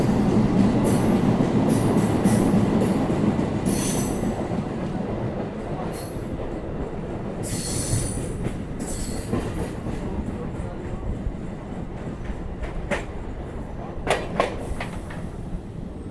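A local train on the Howrah–Masagram chord line rumbles along the tracks toward Kamarkundu, a loud continuous roll with repeated metallic clatter and brief wheel squeals near the end.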